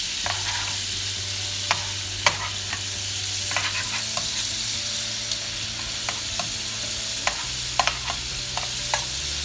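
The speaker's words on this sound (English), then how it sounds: "You gotta see when I flambe mushrooms. You just slide them around in there." Mushrooms slide and sizzle across a hot pan during flambéing, with a steady broadband fry under scattered sharp clicks and scrapes, close and moderately loud with a low hum beneath.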